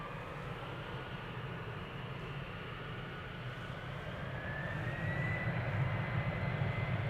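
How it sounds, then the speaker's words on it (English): A nine-year-old Embraer 190 jet departs snowy Amsterdam Schiphol, its engine roar a steady broadband rumble at some distance that swells louder toward the end, with a faint rising whine partway through. "Speedbird flight 8496 going to London City Embraer 190, 9 years old"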